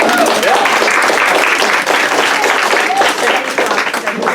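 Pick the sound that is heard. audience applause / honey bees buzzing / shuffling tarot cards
audience applause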